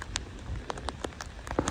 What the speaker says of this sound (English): So it's like raining a lot harder now.